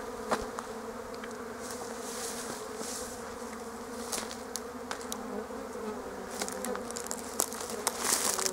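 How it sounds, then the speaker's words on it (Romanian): Honeybees flying at their hive on a mild, springlike February day in winter, a steady close buzz of many insects with individual bees droning past the microphone. "Iată, stați câte albine este aici."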